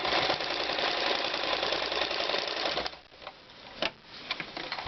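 Domestic sewing machine stitching joined fabric bias strips for piping, a steady close whirring run for about three seconds, then stopping, followed by a few brief handling clicks and taps.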